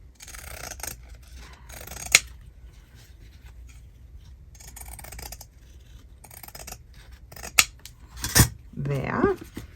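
Scissors snipping through paper for a journal cover, a series of close crisp cuts and rustles with sharp clicks of the blades, ending with louder handling of the paper.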